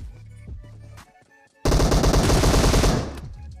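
Rapid automatic gunfire in a mobile shooter game bursts out loud and close after a brief lull, a dense rattling volley that trails off near the end.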